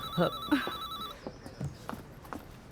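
A telephone rings with an electronic warbling bell in short bursts at the start, then cuts off, followed by faint clicks and footsteps-like knocks in a quiet room.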